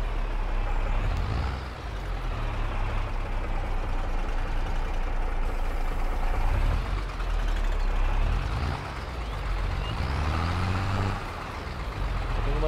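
A tractor engine in Farming Simulator 22 drones loud and steady throughout, swelling in pitch and strength a few times as it accelerates while working a field.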